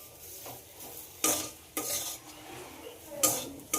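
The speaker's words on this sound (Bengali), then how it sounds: "লবণ আর হলুদ খুব ভালোভাবে মিশিয়ে নিতে হবে।" A utensil stirs salt and turmeric into a mash of jackfruit seeds in a pan, making several loud scraping strokes over a faint background sizzle.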